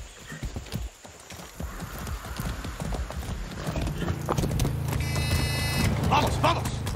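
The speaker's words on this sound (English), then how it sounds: "That's a good horse." Horse hooves clip-clop at a steady walking rhythm in the video game Far Cry 6, growing louder, with a brief electronic tone and a voice speaking over the steps.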